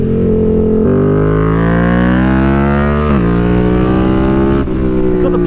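A BMW F 900 R Cup Racer motorcycle engine revs loud and close, its pitch climbing through gear changes, with a sharp shift around midway and another rise toward the end.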